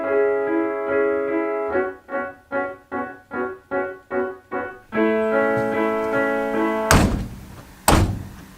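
A door that will not shut: a pulsing, buzzy tonal drone with evenly spaced beats gives way to a steady hum, then two loud, close thuds about a second apart.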